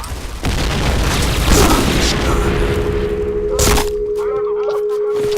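A grenade goes off in the Point Blank online shooter game, a loud booming blast with a crackling burst, then a sustained electronic in-game tone and a few softer thumps.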